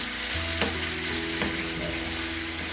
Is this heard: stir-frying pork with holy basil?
yes